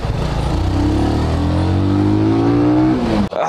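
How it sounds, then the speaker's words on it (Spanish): A motorcycle with its factory stock exhaust revs loudly and steadily, the engine note climbing in pitch over about three seconds before cutting off abruptly, close to the microphone with no talking. "pero rico suena esta moto. Así suena con el escape de fábrica."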